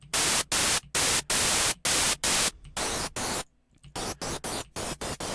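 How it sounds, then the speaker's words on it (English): Bursts of loud, full-spectrum white noise from a synthesizer operator hiss switching on and off in a choppy rhythm, with a brief quiet gap partway through before faster pulses resume. "So here's the white noise dry. It's just noise white coming out of operator."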